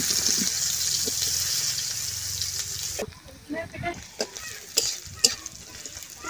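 Fresh home-grown brinjal fries and is stirred in a pan, a loud steady sizzle with scraping for about three seconds before it drops away to sparse clinks and quieter crackling.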